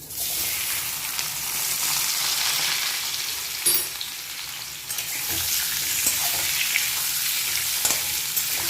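Cut kohlrabi fries in hot oil in a pan just used for frying fish and is stirred. A loud, close, continuous sizzle comes with a few sharp scrapes and clatters of the spatula.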